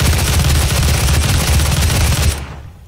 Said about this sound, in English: Now we fire our gun off.